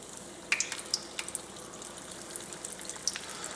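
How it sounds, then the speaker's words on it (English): Shrimp sizzle and crackle in hot frying oil, with sharp pops and spatters over a soft, steady hiss heard up close. "our oil is hot and we're going to add in our shrimp"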